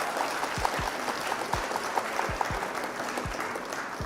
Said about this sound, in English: But, first of all, round of applause for our opponent, McBeatty.